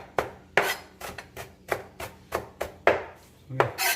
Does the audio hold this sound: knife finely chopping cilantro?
yes